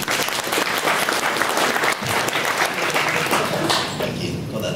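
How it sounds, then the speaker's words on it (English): A lecture audience at a talk on smart drugs gives a full round of applause, a dense, loud and steady roar of many hands clapping for several seconds that thins slightly toward the end. "If I can ask you to give me a round of applause."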